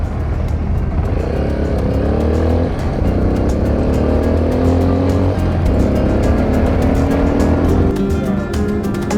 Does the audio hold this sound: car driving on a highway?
yes